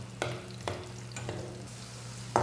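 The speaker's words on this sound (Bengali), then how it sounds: "রসুন লাল করছি।" Garlic frying in hot oil in a pan for a Bangladeshi greens dish, with a steady low sizzle and several sharp stirring scrapes spaced about half a second apart, close and moderately loud with no talk.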